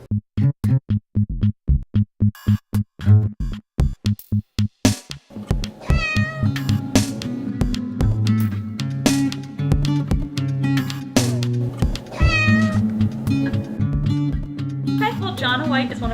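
Cats at an animal shelter meow repeatedly, close and clear, first in a rapid series of sharp rhythmic sounds and then in longer drawn-out meows over a low hum, with a brief voice at the end.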